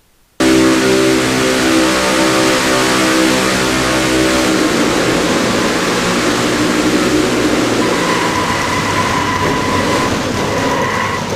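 Stock race car in a racing game at Daytona, heard from the onboard seat of the number 8 machine, a loud sustained engine roar that holds a steady pitch throughout.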